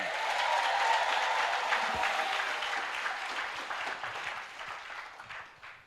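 Church congregation applauding during a Swahili sermon by a bishop, a dense, sustained wave of clapping that stays loud for several seconds and then gradually thins and fades.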